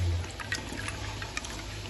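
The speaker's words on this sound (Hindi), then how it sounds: "और इसमें डालेंगे पानी।" Water poured into raw mango (keri) sharbat, a continuous splashing trickle with small liquid bursts, close and moderately loud throughout.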